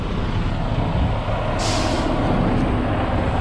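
A truck backs up in a rock yard, its engine rumbling steadily up close, with a brief hiss of air brakes midway.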